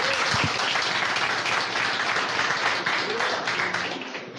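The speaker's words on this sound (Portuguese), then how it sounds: "Aplaude, vai, é digno." A church congregation applauds during a sermon, loud dense clapping that fills the whole span and tapers slightly at the end.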